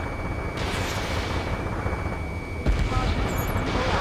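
Gunfire aimed at a retreating vehicle in the combat flight game Ace Combat 7, a dense continuous roar of shots and rumbling blasts under a steady high whine, growing heavier near the end.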